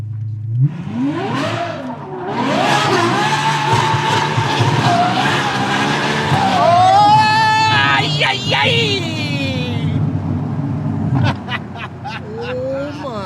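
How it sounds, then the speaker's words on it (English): A Ferrari 812 Superfast swings through a U-turn, its tires squealing in a long loud skid as the engine wails and rises, then drops off into a quieter tail. "That's what you call a U-turn, my friend."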